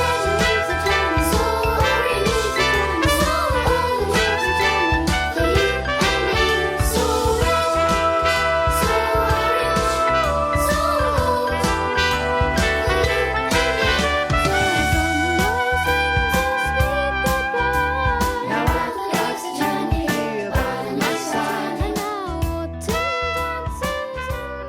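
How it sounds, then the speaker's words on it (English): A recorder carries a light counter melody from the chorus of a song over a dense, busy accompaniment, with clear high notes moving continuously and no talking. "there is a little counter melody that means like a second melody that happens towards the end of the chorus"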